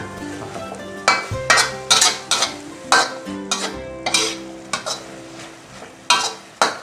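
Minced pork and holy basil leaves stir-fried dry and fiery hot in a pan, with repeated sharp spatula scrapes and clinks over a bubbling sizzle, loud and close in an uneven rhythm.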